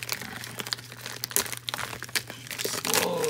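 A sports card repack pack is torn and crinkled open by hand, giving a string of close crackling and ripping bursts over a low steady hum, with the wrapper noise building toward the end.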